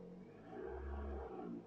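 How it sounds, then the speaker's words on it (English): A Vauxhall Astra Mk4 engine turns over and settles into a low idle after an oxygen sensor replacement, a faint, brief rumble that swells briefly in the middle with no one talking. "I'm just going to try and start the car without raising any codes"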